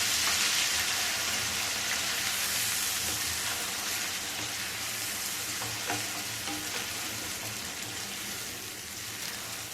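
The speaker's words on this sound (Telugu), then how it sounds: "మనం మిక్సీ వేయించి పెట్టుకున్న ఉల్లిపాయ టమాటా పేస్ట్ అండి ఇది కూడా వేసి పచ్చివాసన పోయేదాకా ఫ్రై చేసుకోవాలి." Onion and tomato paste fries in a pan, making a dense, continuous hiss and sizzle that stays loud and steady, with faint stirring underneath.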